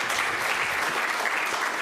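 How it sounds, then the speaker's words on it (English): Steady round of applause from a conference audience at a data-management technology meeting, dense, even clapping filling the whole moment at moderate level with no voices on top. "let's give a round of applause for Timothy"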